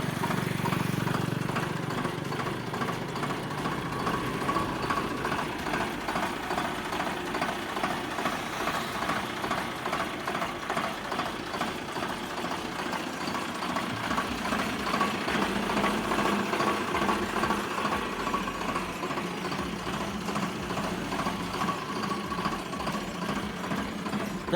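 A 2011 Sonalika RX 42 tractor engine running steadily nearby, a continuous rough mechanical chug with a fast even knock that holds at a constant idle throughout.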